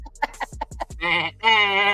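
Voice imitating a sheep bleating: several short clipped nasal bleats in quick succession, then two longer drawn-out wavering bleats, close and loud with no other sound.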